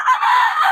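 A rooster crows once, loud and close, in a single sustained call at a bustling market in Bocaue where poultry is sold.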